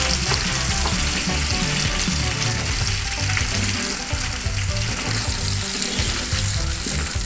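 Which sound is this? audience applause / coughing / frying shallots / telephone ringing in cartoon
frying shallots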